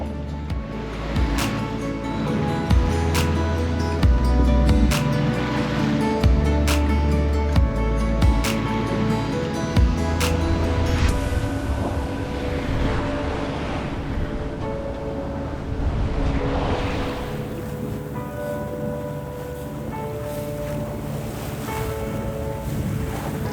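A sailboat motors with its sails down through ocean swell in near-windless conditions off the Portuguese coast, its engine droning steadily under the wash of waves and wind buffeting the microphone, with irregular thumps through the first half.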